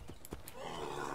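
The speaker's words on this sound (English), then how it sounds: "Oh, hey, there's a horse right here." A horse in the video game Assassin's Creed III gives a few hoof clops and a short whinny, soft and brief, set over a low game ambience.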